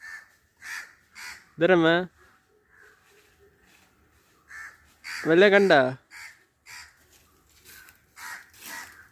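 Crows caw loudly in two harsh bursts of repeated calls, close by, with people talking casually in Malayalam between and around them outdoors.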